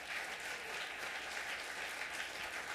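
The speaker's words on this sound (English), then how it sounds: "Go ahead and give him an applause." Steady, dense audience applause fills a room at an awards ceremony in the San Francisco Public Library, many hands clapping evenly and continuously from start to end.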